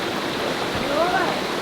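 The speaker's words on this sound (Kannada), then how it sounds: "And this is Vibhuti falls." Vibhuthi waterfall near Gokarna in Uttara Kannada, a steady broadband rush of falling water heard up close and fairly loud, with a faint voice briefly audible over it.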